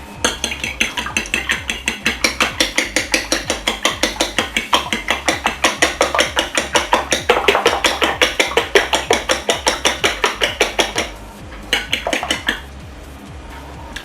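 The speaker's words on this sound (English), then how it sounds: "And then I'm going to give that a whisk." Eggs are beaten in a bowl with a whisk, a fast rhythmic clatter of metal tapping the bowl repeated steadily and loudly, pausing briefly near the end before a few final strokes.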